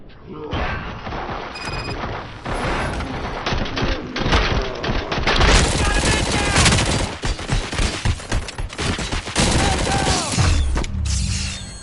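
Rapid gunfire and crashing impacts from the RoboCop Rogue City video game fill a dense, loud combat barrage, with continuous shooting, mechanical clatter and a voice calling out partway through.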